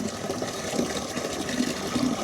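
Steady rushing water from a well pressure tank system pouring into a 5-gallon bucket, a continuous close gush with no talk over it.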